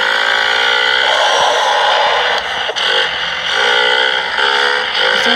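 A motorcycle engine in the video game Moto Vlog Brasil drones steadily and loudly at a constant pitch while cruising through a city, with only slight dips in intensity.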